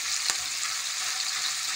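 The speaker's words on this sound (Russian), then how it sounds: "Мы будем все жарить до офигительной корочки." Chunks of meat sizzle hard in a hot pan while being fried to a crust for navy-style macaroni, a steady bright crackling hiss with one sharp pop and no talk.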